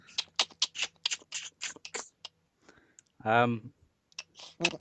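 A person vocally imitates a spider with rapid mouth clicks in a quick, close, dry rhythm, interrupted by a brief voiced croak before the clicking resumes.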